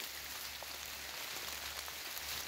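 Fine, light rain falls outdoors in a continuous soft hiss with faint scattered drop ticks over a low steady rumble.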